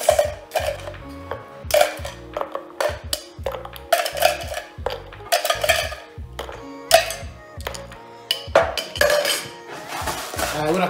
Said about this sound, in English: And then I'm gonna fill it up with ice cubes.